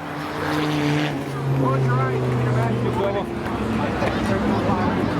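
Spectator drag racing cars at Seekonk Speedway roaring down the straightaway, a loud, steady engine drone with rising and falling pitch as they pass, under an announcer's voice.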